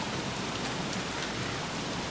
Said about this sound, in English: in Reign of Giants, rain like this spawns flowers